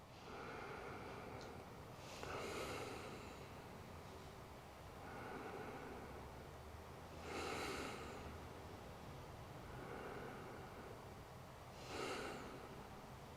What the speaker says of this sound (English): let's just take 3 deep breaths